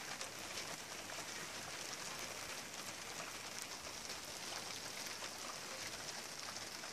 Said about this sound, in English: I just wanted to share my rainstorm with you